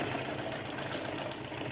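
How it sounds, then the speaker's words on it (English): A sewing machine runs steadily while stitching a straight seam, a continuous even whirring hum with no pauses. "So you are sewing on a straight line."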